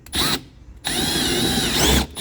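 A power drill with a 6.5mm bit bores a hole while flares are fitted to a Ford Ranger near the mud flap: two close, loud whining bursts, a short one, a brief pause, then a longer sustained run.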